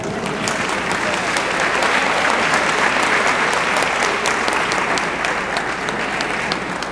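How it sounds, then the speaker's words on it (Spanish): Sustained applause from an audience honoring athletes at a municipal sports event, steady dense clapping at full volume throughout with a faint murmur of voices beneath. "Nuevamente el aplauso para ellos."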